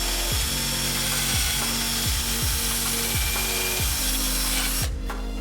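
Carbon buildup is scraped from the combustion chamber of an EA888 cylinder head in loud, regular rasping strokes, about six in a row, over a constant mechanical hum that cuts off abruptly near the end.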